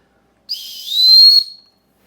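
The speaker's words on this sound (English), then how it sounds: "let's take the whistle out here and we will give it a blow real quick" A single shrill blast from a survival whistle on a ferrocerium rod, high and piercing, rising in strength and then cutting off after about a second.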